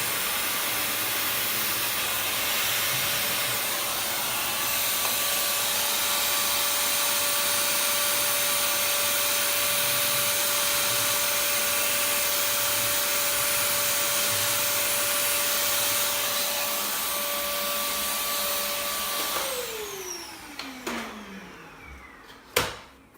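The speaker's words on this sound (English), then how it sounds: "So lots of dirt gets into this bit here. So I'm going to hoover that out." A vacuum cleaner hoovers dirt out of the chamber of a Rofin desktop laser machine, a steady loud whine and rush that holds for about twenty seconds before the motor winds down with a falling pitch and a final knock.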